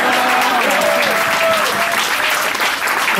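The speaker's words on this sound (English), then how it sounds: "That's about the right amount of applause." An audience at a comedy songwriting panel applauds, a dense, steady clapping that fills the room throughout, with a faint voice heard underneath.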